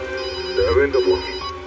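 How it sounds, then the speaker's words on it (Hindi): A telephone rings briefly in a TV crime drama scene, a short bell-like ring standing out clearly in a quiet room. "दयाबेन का फोन"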